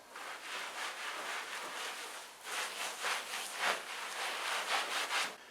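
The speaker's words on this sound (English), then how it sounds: "Then wipe it down with your terry cloth towel." Terry cloth towel wiping down a countertop being refinished, soft rhythmic rubbing strokes that swish back and forth, faint and close, with no voices.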